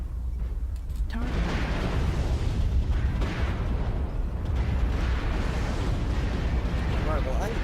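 Heavy rumbling blasts and bursting booms from missile hits in a mech combat video game, dense and continuous throughout, with a synthetic voice and muffled game chatter mixed underneath.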